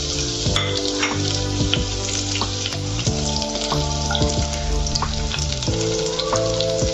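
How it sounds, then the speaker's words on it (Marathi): Ginger and garlic pieces fry over high heat in hot oil for veg noodles: a loud, dense sizzle with frequent spatula clinks and stirring scrapes, no one speaking. "तेल गरम झालेलं आहे. मी आता याच्यामध्ये आलं लसणाचे तुकडे टाकणार आहे."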